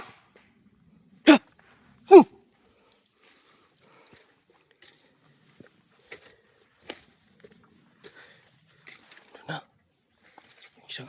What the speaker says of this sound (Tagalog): isang aso.